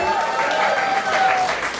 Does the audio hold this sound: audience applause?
yes